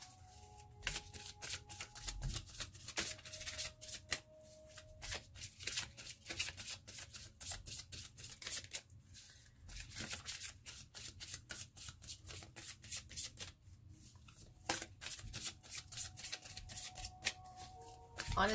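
Oracle cards being shuffled close up, a run of quick crisp riffles and slaps with brief gaps, light and fairly faint, with faint background noise.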